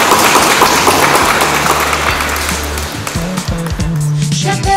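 Wedding guests applaud in a loud, steady wash of clapping for about three seconds, which thins out toward the end as other noises take over.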